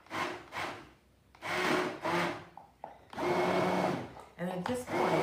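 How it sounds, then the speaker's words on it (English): Immersion blender pureeing autumn squash and chestnut soup in a pot, loud whirring bursts that start and stop in uneven pulses, with a rough churning edge. "I have my immersion blender ready to go, and I'm just going to put this down in here"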